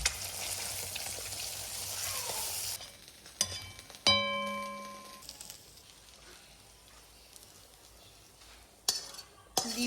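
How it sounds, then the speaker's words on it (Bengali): Eggs with salt frying in a pan, a steady broadband sizzle for the first few seconds, then quieter stretches broken by a ringing clink of utensil on metal and a few scraping stirs. "লবণ দিয়ে ভালো করে ঝুড়ে ঝুড়ে করে ভেজে নেব।"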